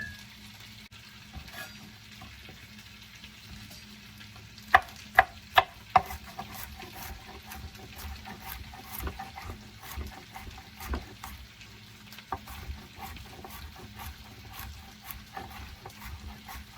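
Cherry tomatoes fry in a pan, giving a low continuous sizzle with scattered pops and a few sharp clicks of a utensil against the pan, heard without any voices.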